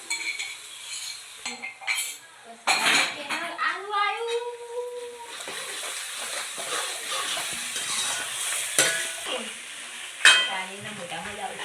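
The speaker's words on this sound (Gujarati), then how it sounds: "હવે આદુ મરચાં થોડું શેકવા દઈશું" Ginger, chili and garlic sizzle in hot oil in a home kitchen pan after onions, with a spoon clinking and stirring against the metal, close and busy, while someone talks over it.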